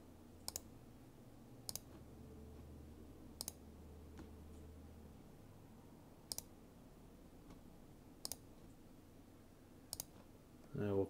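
Computer mouse clicks during setup of a Windows 98 virtual machine, about seven sharp, quiet single and double clicks spaced a second or two apart over a low hum, with soft talk in the background.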